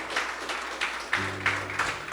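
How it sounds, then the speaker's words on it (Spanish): A congregation at a Christian church service claps briefly, a light, scattered patter of hands over a low musical drone, fairly faint and short. "Dale fuerte ese aplauso al Rey."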